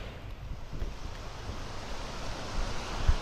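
Rushing floodwater of a swollen river at Naawan, Misamis Oriental, during heavy rain: a steady, broad roar of churning water with low rumbling surges, continuous and fairly distant, no voices.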